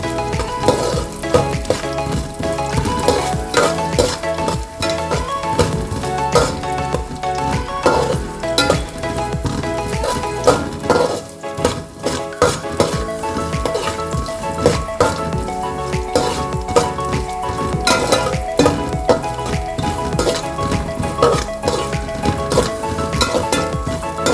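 Something fries in a pan until golden for adai payasam, a continuous loud sizzle broken by frequent stirring scrapes and clatters of a utensil against the pan, with no talking.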